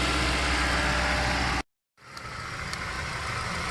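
Engine held at just under 2,000 RPM, a steady, dense running drone that cuts out abruptly for a moment before picking back up and continuing, with no voices.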